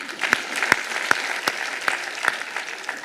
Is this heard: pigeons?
no